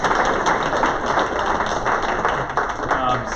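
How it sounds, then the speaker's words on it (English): A room of attendees at a Republican club meeting claps together, a brisk, uneven patter of hands heard close and fairly loud for a few seconds. "Let's give Pat another round of applause."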